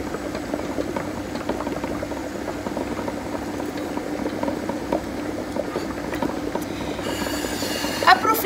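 Water heating in a large pot to melt chocolate in a smaller pot set inside it, making nougat: a steady low bubbling, rumbling simmer runs throughout, with a few faint clinks near the end.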